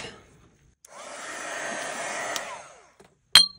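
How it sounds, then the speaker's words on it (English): A heat gun blows steadily for about two seconds to dry watercolor on fabric, with a whooshing airflow that starts and stops, followed by a sharp knock at the end. "I'm gonna dry this with the heat gun"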